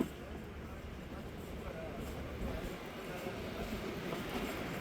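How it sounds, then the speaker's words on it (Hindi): The 129Up Thal Express rolls along the rails at night with a steady low rumble and rattling wheel noise, heard from inside the train near the cab. "और टाउन ग्रिड की तरफ जा रही है हमारी ट्रेन जनाब"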